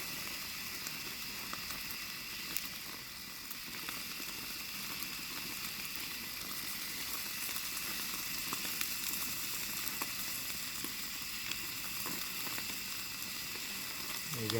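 Tomahawk ribeye steak searing on a grill, a steady bright sizzle and crackle running continuously, with a voice talking over it.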